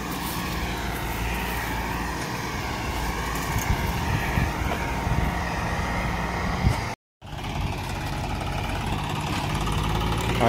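A tractor with big rear wheels runs its engine as it climbs a slope in a sugarcane field during mechanised cane harvesting, a close, steady droning roar that cuts out for a split second before resuming.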